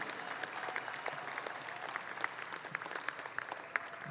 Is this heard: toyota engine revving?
no